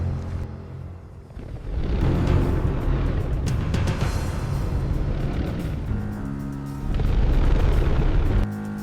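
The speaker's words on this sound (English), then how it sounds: "Far beyond the horizon, the asteroid strikes." A massive asteroid, more than 10 kilometers wide, slams down far beyond the horizon, producing a loud, sustained rumbling roar that swells, holds steady and surges again near the end.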